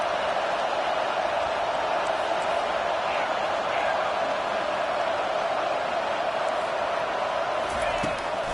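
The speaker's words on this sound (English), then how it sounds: "this crowd trying to help keep them there." A college football stadium crowd at an LSU vs Texas game produces a dense, continuous roar, loud and steady from start to finish with no breaks.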